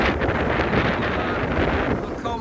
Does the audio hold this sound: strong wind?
yes